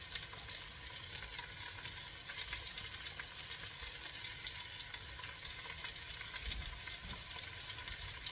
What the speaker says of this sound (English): Now I'm going to continue browning all of this on all sides